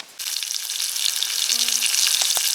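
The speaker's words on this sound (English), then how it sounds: "Can you hear that sizzle?" Marinated steak sizzling and frying over a campfire outdoors, a dense, steady crackling hiss that starts abruptly and continues close and loud.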